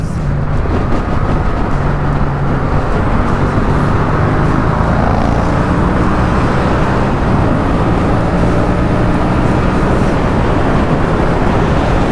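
Steady, loud engine and wind roar from a motorcycle ride on the road, continuous and close throughout with no speech.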